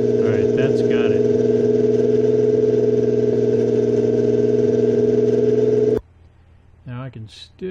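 A steady, droning aircraft engine hum from the video game Aces High 3 runs loud and constant, then cuts off abruptly, leaving faint noise and a brief whine.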